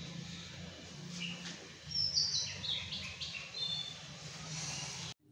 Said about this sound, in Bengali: আর তার সাথে সাথে পাখিও ডাকছে কিচিরমিচির করে।